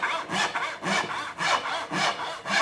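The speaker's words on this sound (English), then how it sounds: "So now I'm going to cut the dowel to its final length" Hand saw cutting a wooden dowel to length for a small magazine rack, with about five even, rhythmic push-and-pull rasping strokes, close and clear, no voices.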